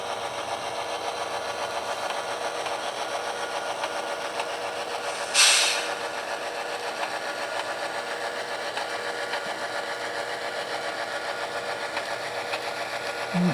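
A small model train locomotive with burnt-out LED lights runs along a layout, a steady whirring motor drone with a faint rhythmic rattle, continuous and close, with one brief sharp click midway.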